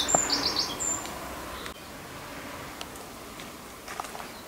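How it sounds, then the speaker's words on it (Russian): Birds chirp and sing in a shaded green ravine within a city, with a few short high calls near the start, then faint scattered tweets over quiet outdoor ambience. "птички поют"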